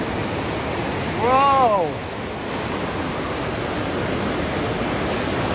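Water rushing through a river at Zeballos makes a steady broadband roar that fills the scene, with a short excited exclamation from a person near the start.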